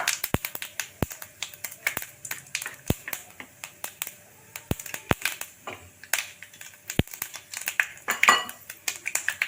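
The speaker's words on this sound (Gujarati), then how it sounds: "તો આપણું તેલ થઈ ગયું છે, તો રાઈ નાખી દઈશું." Mustard seeds, cumin and hing crackling in hot oil for a tempering: sharp, irregular pops and snaps scattered throughout, some loud and close, over a faint hiss, with no talking.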